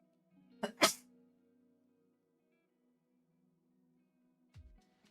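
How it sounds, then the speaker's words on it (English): A single close sneeze indoors, a quick two-part burst in a quiet room, followed by a faint knock a few seconds later. "I gotta sneeze."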